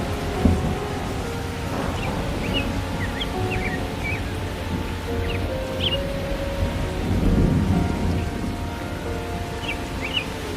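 Steady rain patters throughout a cartoon scene, with low thunder rumbling underneath and swelling to a heavier roll near the middle, while faint bird chirps flicker in the background.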